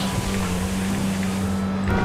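A faulty-sounding car exhaust in GTA V drones loudly and steadily with a low, rough hum and no break, close up and alone.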